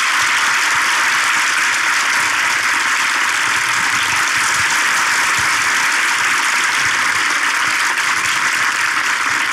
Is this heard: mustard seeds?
no